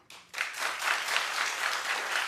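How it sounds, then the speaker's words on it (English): A studio audience at a talk show breaks into clapping after a brief moment of quiet, then keeps up steady, full applause to the end. "Keep clapping."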